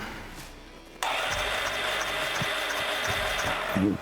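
A Ducati 750 F1 motorcycle engine cranks during an ignition spark check, with a sudden loud starter whir cutting in after a second and running steadily close by, with faint knocks underneath.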